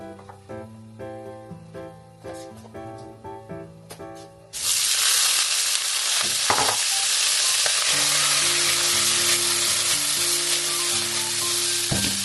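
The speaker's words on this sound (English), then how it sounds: "So now it's time to put the pork in here." Pork hits a hot pan for a Shanghai-style braised pork stew and bursts into a loud, continuous, close sizzle. Light background music plays before the sizzle starts and continues under it.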